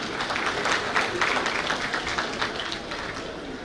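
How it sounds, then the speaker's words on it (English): Conference audience applauding a WHO speaker at a national health annual review, a moderate, even patter of many hands clapping that holds steady and begins to thin toward the end. "Please round of applause for Hamza Tomotayo of WHO"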